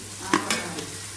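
Onion cooking in a pan for biryani, a soft steady sizzle with two or three quick stirring scrapes close by.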